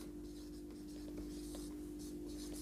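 Faint pen or marker strokes as subject names are written out, soft scratchy bursts over a low steady electrical hum.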